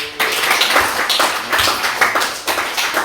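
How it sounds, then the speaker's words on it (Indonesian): A class of students clapping hands together in a classroom during a lesson, a burst of fairly loud, uneven claps with a few sharper accents, close by and without talk. "Tepuk tangan dulu."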